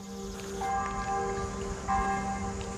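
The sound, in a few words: church bell ringing nearby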